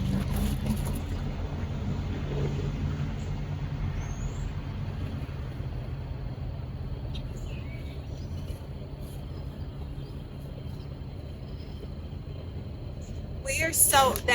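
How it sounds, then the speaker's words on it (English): A heavy truck rumbles past close by, a steady low roar of engine and road noise that swells briefly near the end. "that truck was so loud"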